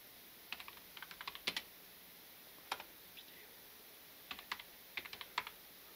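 Keys on a computer keyboard are tapped in short bursts of quick, crisp clicks with pauses between, faint and close in a quiet room while text is typed into editing software.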